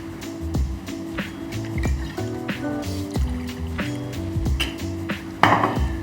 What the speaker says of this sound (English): And then 15 mils of the Campari.